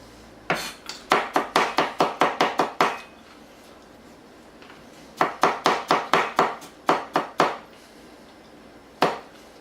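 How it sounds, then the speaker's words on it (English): Knife chopping broccoli florets and onion on a board, a quick run of about a dozen sharp, even chops, a pause, then another burst of about ten and one last lone chop, close and clear with no talking. "Chop up the floret onion"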